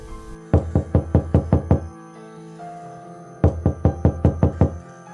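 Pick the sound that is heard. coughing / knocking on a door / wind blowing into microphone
knocking on a door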